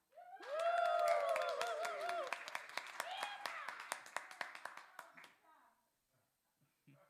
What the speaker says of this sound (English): the clapping and the hooping and hollering